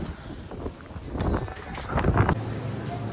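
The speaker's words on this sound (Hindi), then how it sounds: "इतनी हवा है कि साइकिल तक खड़े नहीं हो पाए हैं" Strong wind blows outdoors, a steady broadband roar of gusts buffeting the microphone, rising louder toward the middle and holding near and continuous, with faint voices underneath.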